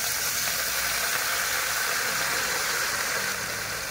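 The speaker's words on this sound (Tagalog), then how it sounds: "lagay ko na po yung kangkong" Water spinach (kangkong) added to sautéed onion and garlic in a pan, a loud continuous hissing sizzle that holds steady throughout.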